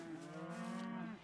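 A video-game cow gives a single drawn-out moo, clear and fairly close, as a newly arrived herd of cattle comes in, with nothing else around it.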